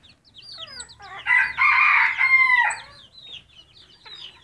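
Polish chickens clucking and squawking close by, a loud burst of overlapping calls building in the middle before tapering off into softer, scattered clucks, with no talking.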